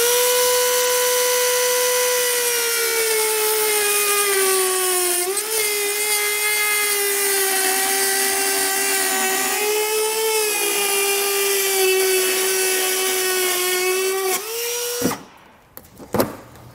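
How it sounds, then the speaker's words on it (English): A Dremel rotary tool whines at a steady high pitch as it trims a thin plastic bumper on a 2018 Subaru Outback Wagon, close and loud with slight dips in speed. It cuts off near the end, leaving a few clatters. "I'm gonna use a Dremel tool just to kind of speed things up"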